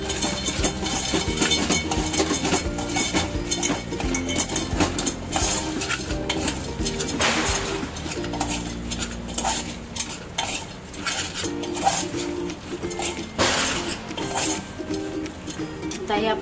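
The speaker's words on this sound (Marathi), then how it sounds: "चांगलं परतून घेऊया आणि जे भाजलेले शेंगदाणे आहेत ते त्याच्यात मिक्स करूया।" Roasted peanuts being sautéed and stirred in a pan for a dabeli filling, with repeated metal spoon scrapes and clinks against cookware over a low sizzle, close by, with a voice speaking at times.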